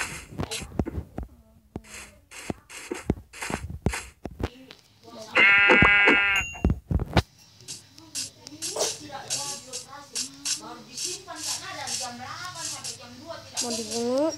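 A goat in the Minecraft video game bleats in short quavering cries among game sounds, with a louder burst midway and a person talking around it.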